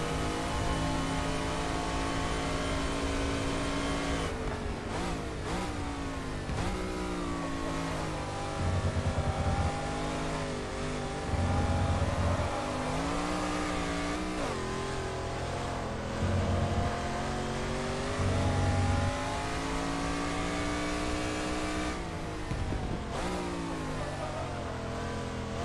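A De Tomaso Pantera race car in GT Legends at Spa-Francorchamps, its engine roaring loudly and continuously, rising and falling in pitch through repeated gear changes with brief low bursts between shifts, with no voices.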